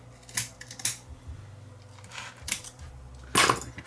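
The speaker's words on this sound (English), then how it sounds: "So if I cut this tape here" Tape being cut with scissors inside an All Powers S700 portable power station during a teardown: several short, crisp snips and crinkles spaced irregularly, close and fairly quiet, with no talking.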